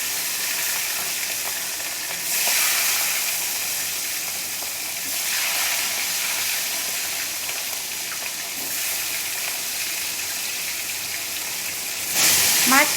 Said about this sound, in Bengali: এবারে আমরা নুন এবং সর্ষের তেল দিয়ে ম্যারিনেট করে রাখা মাছটা তেলের মধ্যে দিয়ে দিচ্ছি।